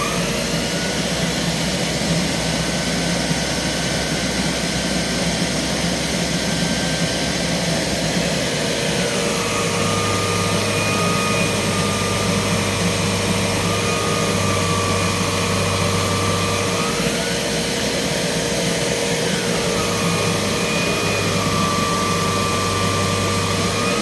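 Aerus Lux Guardian C154E canister vacuum cleaner running steadily with its power nozzle, a continuous loud whine and hum whose pitch shifts a few times as the load changes, with no talk.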